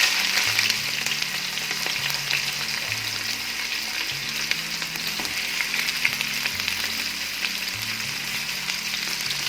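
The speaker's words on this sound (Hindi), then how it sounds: "कट करके प्याज को ऑयल में डालेंगे" Chopped onions sizzle steadily in hot oil in a pressure cooker, a continuous crackling hiss with no voices.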